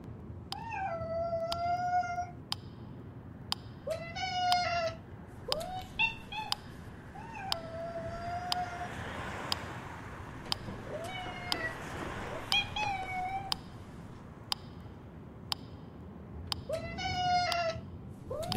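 A cat meows repeatedly, with plaintive drawn-out cries coming every few seconds. Sharp clicks and a low rumble run underneath.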